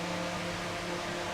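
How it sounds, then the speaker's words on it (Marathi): An electric mixer grinder whirs steadily as it grinds spices for a raw mango panha drink, a continuous close motor hum with a bright hiss, unbroken for the whole moment. "याला मिक्सरला बारीक करून घेऊयात."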